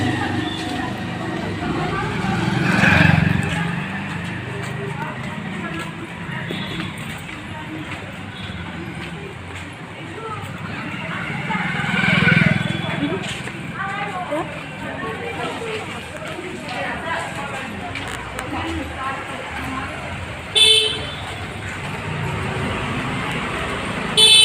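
Vehicles pass along a road on a hot day after rain, with traffic swelling and fading twice and a short horn toot near the end, while someone talks over the street noise.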